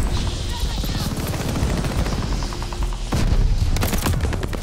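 NZ-41 rifle fire in Call of Duty: Vanguard, rapid automatic shots in a steady close rattle with a louder burst near the end, under a speaking voice and game noise.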